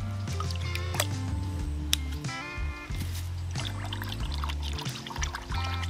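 Water being poured a little at a time into a fishing groundbait mix, a steady close pouring and trickling with small splashy, squishy bursts.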